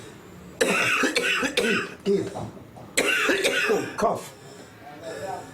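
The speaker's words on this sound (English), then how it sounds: "Cough, cough, cough." A person coughs in a run of harsh, uneven bursts, close and fairly loud, mixed with a spoken word, in a piece on dust-related disease in southern Africa.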